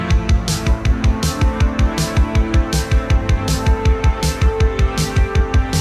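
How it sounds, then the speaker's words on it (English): Big synth chords from a Roland D50 pulse in a steady, driving rhythm over punchy low beats. The sound is loud, dense and close, with no voices. "That's Roland D50 synth."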